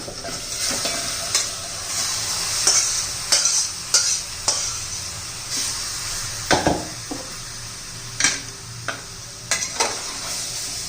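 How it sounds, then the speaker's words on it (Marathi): Chicken coated in turmeric, salt and spices sizzles loudly in hot oil in a pan while a utensil scrapes and knocks in irregular bursts of stirring, close up, no voices. "चांगले तेलामध्ये मसाले परतून घेऊ चिकन चिकन चांगलं परतून घ्यायचं"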